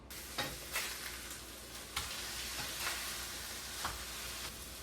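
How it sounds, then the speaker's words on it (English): Ground beef sears in a hot pan for a high-protein burrito filling, a steady close sizzle broken by several louder crackling bursts as the meat is stirred and moved, with no voices. "With our ground beef, we are going to let it sear on this side, flip it over, sear on the other"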